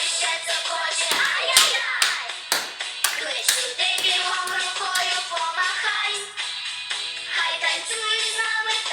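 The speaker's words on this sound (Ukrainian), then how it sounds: "у долоні краще плескай" Children in a kindergarten physical education dance class clap their hands in irregular, sharp bursts over loud music, with voices mixed in.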